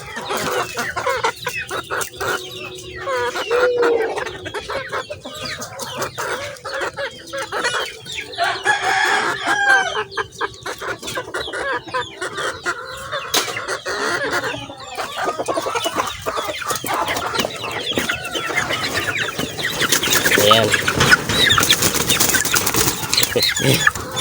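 Young cockerels one to two months old and baby cockerels cluck, crow and flap their wings loudly and continuously while crowding to wet feed, a close, busy flock sound with no pause.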